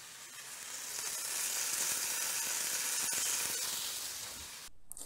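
Syrniki, cottage cheese pancakes, fry in oil in a pan with a steady, bright sizzle that swells in the middle and then fades, close by with no talk.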